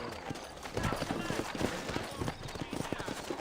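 Horse hooves clip-clopping at a steady pace in the Old West town of New Austin in the video game Red Dead Redemption, close and distinct, with a voice talking over them.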